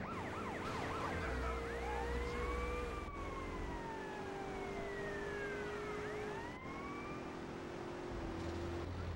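A police car siren wails and sweeps steadily through the Liberty City Stories video game, with rising and falling tones that cut out and restart twice over a constant rumble of game background noise.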